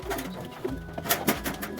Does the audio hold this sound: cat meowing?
no